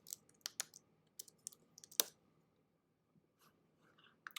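Light typing on a computer keyboard, a scattered run of quiet clicks and taps with short pauses, close by and faint.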